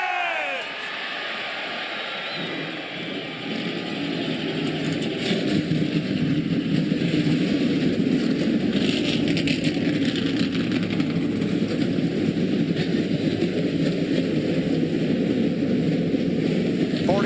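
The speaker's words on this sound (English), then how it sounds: "Three engines fire on pit road for this fifth NASCAR Winston Cup race of 2001." NASCAR Winston Cup stock car engines fire on pit road at the 2001 Carolina Dodge Dealers 400, a loud continuous roar that swells after a brief start and holds steady while a crowd murmurs beneath it.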